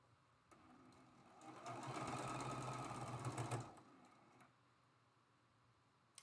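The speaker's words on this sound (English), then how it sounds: "we're going to sew our last seam for this block" A sewing machine stitches the last seam of a picket fence quilt block in one steady, rapid run of a couple of seconds, close and fairly quiet, then stops, with no talking.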